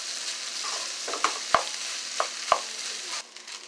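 Vegetable fried rice is tossed in a hot pan over high heat, giving a continuous sizzle. Sharp metallic clanks from a spatula striking the pan come at irregular intervals before the sound thins out at the end.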